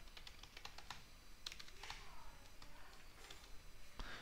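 Someone types quietly on a computer keyboard in irregular, closely spaced clicks and taps over faint background hiss. There is no talking.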